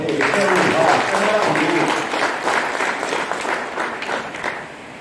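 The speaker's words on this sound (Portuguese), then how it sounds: "Olha uma salva de palmas." A church congregation claps steadily in a dense wash of applause that slowly fades toward the end.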